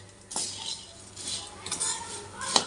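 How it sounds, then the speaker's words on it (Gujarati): A spoon mixes spiced puffed rice (mamra) with coriander-cumin powder and chilli in a bowl, giving soft rustling scrapes and a few light clinks, with a sharper metallic tap near the end. "તો આને પહેલાં મિક્સ કરી લઈએ।"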